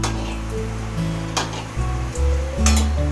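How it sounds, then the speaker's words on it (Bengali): A plantain flower and prawn chop fries in hot oil, a close steady sizzle with occasional stirring scrapes and pan knocks. "এবার এটা ভেজে দেখাচ্ছি।"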